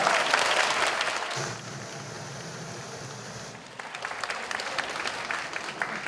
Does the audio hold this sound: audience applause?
yes